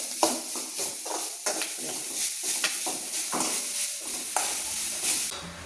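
A utensil scrapes and stirs grated coconut roasting dry in a hot pan, with steady faint sizzling under repeated scraping strokes.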